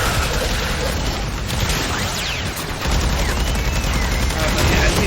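Rapid, dense Archgun fire in Warframe, a continuous barrage of loud shots and blasts rolling on without pause, with a voice talking over the din.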